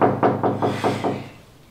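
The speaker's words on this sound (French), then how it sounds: "On toque à la porte." Six firm knocks on a door in a quick, even rhythm, loud and close, fading slightly toward the end, heard during a Congolese stage play.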